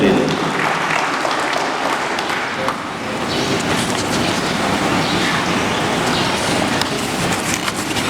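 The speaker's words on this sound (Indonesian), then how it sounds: "Tepuk tangan boleh." A large crowd applauds continuously at a university speech, a dense wash of clapping that holds steady throughout, with a few voices mixed in.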